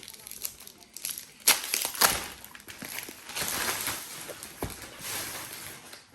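Crinkly tearing and crumpling as packing tape is pulled from a diamond painting kit box, a few sharp rips followed by longer rustling strips, close by.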